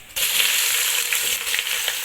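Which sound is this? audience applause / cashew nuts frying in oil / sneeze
cashew nuts frying in oil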